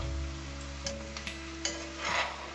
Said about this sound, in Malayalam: നന്നായി മൊരിയട്ടെ. അതിൻ്റെ കളറൊക്കെ മാറുന്ന വരെ വഴറ്റിയെടുക്കുക.